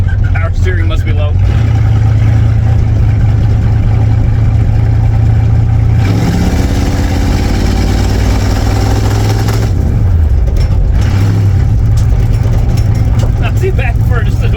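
A 1968 Ford wagon that has long sat unused, its engine droning steadily while driving with a low constant hum, rising and falling slightly as speed shifts, loud and close throughout.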